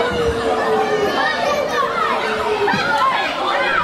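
Wrestling fans at a UBW show in Stotfold cheering and shouting in a loud, continuous crowd din with overlapping whoops and voices throughout.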